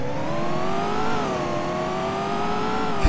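A Chevrolet C7 Corvette Z06 V8 in a Roblox driving game drones steadily at a close, loud idle with a gently wavering engine tone, ending in a short thump.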